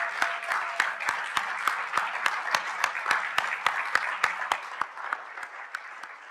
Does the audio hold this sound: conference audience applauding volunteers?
yes